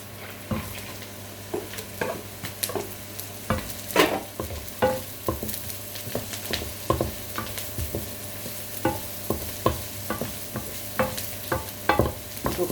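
Carrots and onion stir-fry in plenty of oil, a constant sizzle overlaid by frequent clinks and scrapes of a spatula against the pan in an uneven, busy rhythm.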